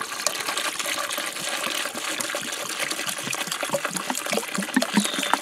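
Full-strength ammonia poured from half-gallon jugs over cast iron outdoors, a steady continuous gush and splash of liquid running for several seconds, close and fairly loud with no talking.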